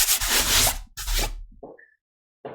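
Fingers rub dried masking fluid off a small watercolor paper card in a few short brushing bursts, close and fairly loud, then a brief pause before another rub starts.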